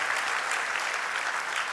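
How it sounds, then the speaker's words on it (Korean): A church congregation claps in congratulation during a Sunday service, a short, even burst of applause from many hands, fairly soft and continuous without any talking. "우리 뜨거운 격려의 박수 한번 보내드리면, 축하의 박수 이면 좋겠어요"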